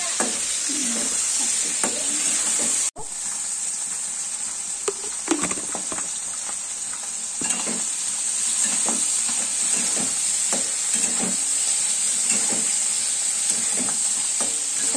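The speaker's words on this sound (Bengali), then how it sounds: "দিয়ে এটা ভালো করে নাড়াচাড়া করে নেব। যেহেতু সেদ্ধ করা, বেশি সময় লাগবে না।" Boiled food seasoned with salt and a little turmeric is stirred and fried in a pan, giving a steady close sizzle with repeated scraping stir strokes throughout and a brief sharp knock near the start.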